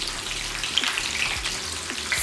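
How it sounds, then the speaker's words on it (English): Snails fry lightly in hot oil for peppered snail, a continuous close sizzle with scattered small pops and crackles, with no talking over it. "as our snail is frying"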